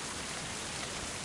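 Rain in the video game Mind: Path to Thalamus pours as a steady, dense broadband hiss, close and even, with no voices over it.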